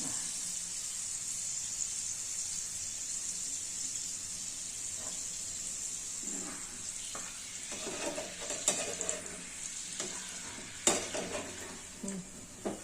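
White peas fry in a pan with a continuous hiss of sizzling, joined later by irregular scraping and stirring clinks that grow louder toward the end, without any talking.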